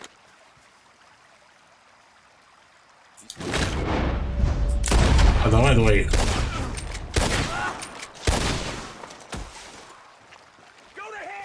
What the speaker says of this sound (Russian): Нет, все-таки давай с ружья.